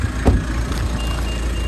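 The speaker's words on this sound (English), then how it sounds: "that beeping noise is because I say the key's not there" A steady series of electronic key-not-detected warning beeps inside a car, repeating over a low engine hum.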